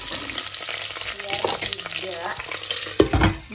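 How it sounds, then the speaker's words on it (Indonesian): Shallots, garlic and chili fry in a pan with a dense, steady sizzle and crackle, close up, while a utensil stirs and scrapes, with one sharp knock near the end. "Sekarang aku mau goreng ini bumbunya"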